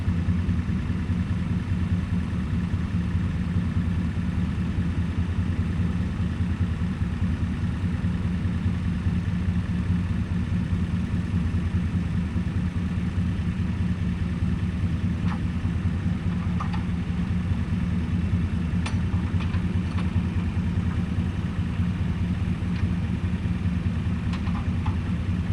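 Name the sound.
tractor engine running while pulling fallen tree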